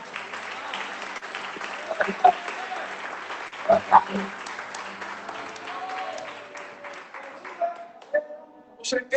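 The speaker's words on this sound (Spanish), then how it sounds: "Es un aplauso a Dios." A church congregation applauds together, steady clapping that rises and falls over several seconds, with voices mixed in among the claps.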